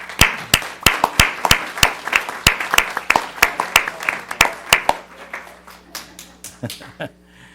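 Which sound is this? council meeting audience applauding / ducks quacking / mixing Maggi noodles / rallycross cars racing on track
council meeting audience applauding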